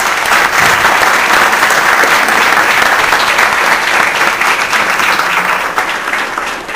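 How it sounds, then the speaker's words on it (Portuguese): A round of applause from an audience at a workshop led by a Babalorixá, dense, loud and sustained clapping that continues steadily throughout without talk. "Uma salva de palmas para ela de novo."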